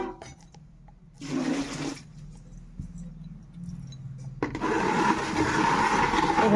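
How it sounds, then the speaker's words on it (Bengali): Water running while a mixer grinder jar is rinsed, a short splash first, then a steadier louder gush that builds toward the end, close by. "মোটরটা একটু ধুয়ে নিচ্ছি।"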